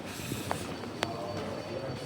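A B-series passenger train on the Yanchep Line rolls past with a steady, broad rumble and hiss, a couple of sharp metallic clicks and a faint squeal rising above the noise.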